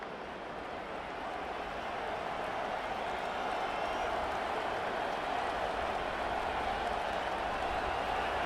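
Stadium crowd in the College Football 25 video game, Iowa State at Utah, a dense, steady roar that swells slightly and holds loud without pause for the whole stretch, with no distinct voices.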